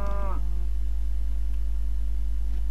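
A cow in a Minecraft-style video game lets out one short moo at the start, followed by steady low game hum.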